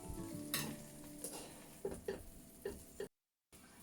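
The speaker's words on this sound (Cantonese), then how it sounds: "通常咧我就會將啲牛油咧直接擺落個 pan 度，咁就掂一掂啲包，咁佢就炒咗牛油啦。" Burger buns dabbed into melted butter in a hot pan give a soft sizzle with a few sharp taps and scrapes against the pan, quiet and close, with no talking.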